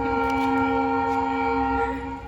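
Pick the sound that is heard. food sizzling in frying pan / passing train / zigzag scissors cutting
passing train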